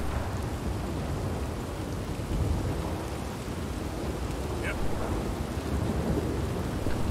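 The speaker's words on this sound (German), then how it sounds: "Tigern wir hier mitten im strömenden Regen lang." Pouring rain and thunder roll through a nighttime storm in the video game Red Dead Redemption 2, a dense continuous downpour with low rumbling, and a single brief spoken word partway through.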